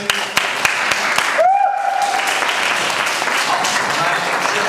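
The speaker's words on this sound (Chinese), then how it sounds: "掌声鼓励。" Audience applause in a university concert hall as the performers of a student music group walk on stage, a steady close wash of clapping that fills the whole stretch, with a voice briefly heard over it.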